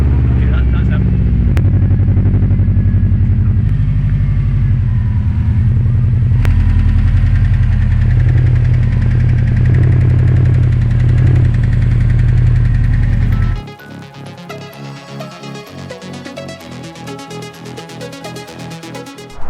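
A worn-out, boosted Subaru Impreza WRX engine idles loudly and steadily with a rough knocking rattle for about thirteen seconds before it is shut off, leaving a quieter, fainter mechanical tail.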